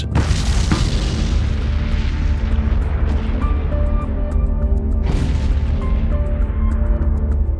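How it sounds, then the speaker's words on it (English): A huge supervolcanic eruption of Mount Toba rendered as a loud, sustained deep boom, with a rumbling blast that rolls on and a second burst of force midway, no voices present. "It was the largest explosion in the last 2 million years"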